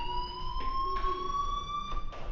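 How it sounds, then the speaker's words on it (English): A fire alarm sounds in the Life is Strange video game, a steady high electronic tone with repeating pulses, continuous and prominent over a quiet indoor background. "Hey, do you hear that fire alarm?"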